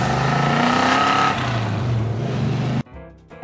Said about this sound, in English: engines roaring to life.